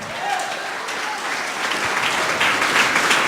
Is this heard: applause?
yes